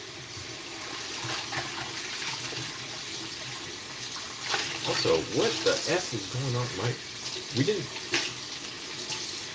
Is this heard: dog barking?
no